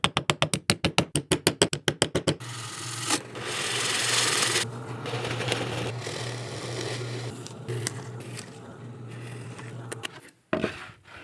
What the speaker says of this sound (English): I'll be using my 3/4 inch bandsaw blade because it cuts straighter.